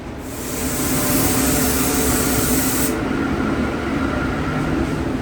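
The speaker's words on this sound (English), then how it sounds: "We're gonna get a coat of sealer shot on this thing" A spray gun applies a coat of sealer to a truck cab, a loud, steady hissing spray that builds in at the start and runs continuously, its bright edge dropping away a few seconds in while the spraying carries on.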